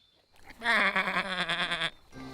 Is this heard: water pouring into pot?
no